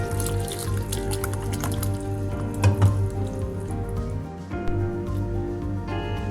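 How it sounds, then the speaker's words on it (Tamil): Water poured from a half-cup measure into batter for crispy Chinese honey chicken, a soft trickle and splash mixing into the bowl beneath steady background music. "ஒரு 1/2 கப் அளவுக்கு இதில் தண்ணி ஆட் பண்ணிக்கலாம்."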